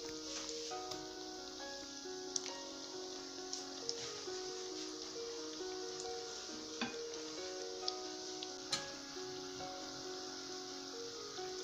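Bugnes dough fries in a hot oil bath with a steady, quiet sizzle and a few soft ticks. Sustained musical tones play over it the whole time.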